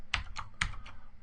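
Keystrokes on a computer keyboard, four distinct clicks in an uneven rhythm, close and moderately loud with no talking.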